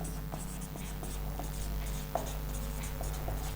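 A teacher writes on a board during an organic chemistry lesson, giving faint, irregular tapping and scratching strokes over a quiet room hum.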